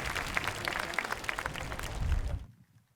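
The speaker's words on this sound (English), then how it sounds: "Now we would like to ask everyone to give a huge round of applause to ADA School faculty." Applause from the audience at a school commencement ceremony for the faculty, a moderate patter of clapping with some distinct close claps, fading out into quiet after a few seconds.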